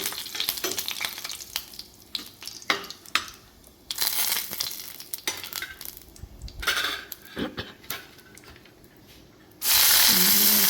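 Sliced onions sauté with fried dried red chillies in a hot pan, giving a steady close sizzle broken by repeated scraping strokes of a stirring spoon against the pan, ending in a sudden louder burst of frying.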